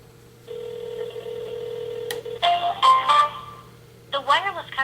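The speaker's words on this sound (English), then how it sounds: "make a telephone call to the Uphone's number." A call placed to a Uphone number through an app: a steady tone, a series of short dialing beeps and tones, then a brief automated voice fragment, clear and close.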